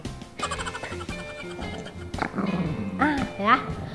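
A dog on a sofa making low growls and whining, grumbling vocal sounds, near and moderately loud, mixed in with a person talking throughout.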